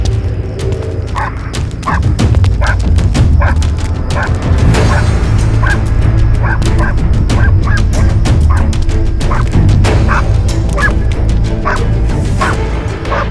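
In an episode of the Turkish action series Warrior, dubbed in Urdu, a dog barks close and loud in a long run of rapid, repeated barks, some with a honking, yelping edge.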